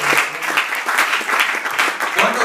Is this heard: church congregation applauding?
yes